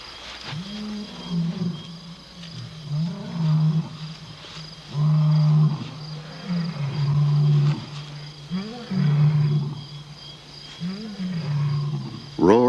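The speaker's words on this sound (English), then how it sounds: "Roars in the night can mean danger for the pride" Male lions roar at night in Africa, a series of deep, rhythmic grunting roars that repeat roughly every second or two, loud and close, building and fading in waves.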